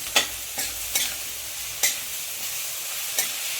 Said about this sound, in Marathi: मिरचीचा ठेचा पण चांगला परतून घ्यायचा आणि मग आपण त्याच्यात भाज्या टाकू